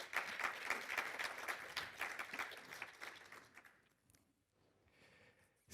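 An audience at a French conference applauds the guest speakers, a dense burst of clapping that gradually thins and fades out, followed by faint scattered claps.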